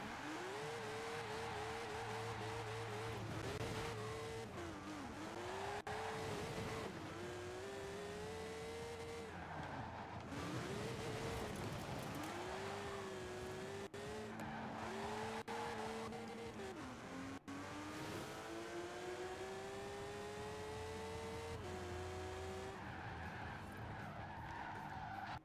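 A Ferrari race car in a racing video game screams through corners with repeated tire skids and squeals, engine pitch dipping and climbing as it brakes and accelerates, loud and continuous with no talk.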